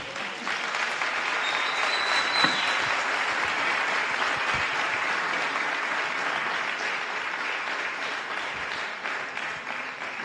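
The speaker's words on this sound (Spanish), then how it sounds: "Dale un aplauso." Congregation applause at a church service, a dense, steady wash of clapping that holds at an even level for about ten seconds with no talk over it.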